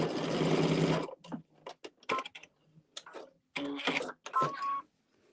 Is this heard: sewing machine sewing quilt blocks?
yes